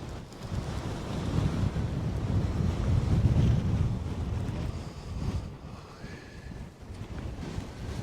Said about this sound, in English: The views are stunning, but it isn't half windy up here.